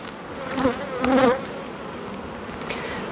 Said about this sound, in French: On essaie de pas trop froisser les abeilles parce qu'il y a quand même du monde là